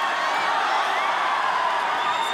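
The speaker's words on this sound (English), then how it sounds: "this crowd going absolutely bananas here in Studio City, Macau, China" An arena crowd at a ONE fight in Studio City, Macau, roars with steady, dense cheering and whoops that stay loud for the whole moment.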